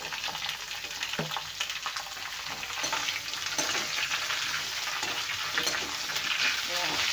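Carrot and green chillies fry in oil for a carrot-beetroot chutney, giving a bright, steady sizzle with crackling bursts and occasional light stirring clatter, close and continuous.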